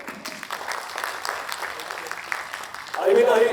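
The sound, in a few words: audience applause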